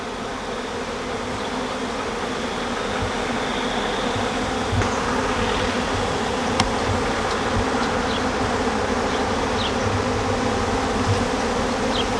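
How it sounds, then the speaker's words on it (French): A honey bee buzzes steadily and close while working nectar, a continuous insect drone with a few faint clicks over it. "En voilà une abeille travaillant le nectar pour éliminer l'excès d'eau"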